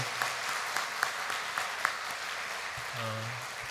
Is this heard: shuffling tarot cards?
no